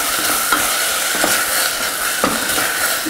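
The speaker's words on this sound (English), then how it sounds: "Give that a little stir." Rosemary, mint, garlic and strawberries sizzle loudly in a pan while a utensil scrapes and stirs them in a few distinct strokes, close up and with no talking.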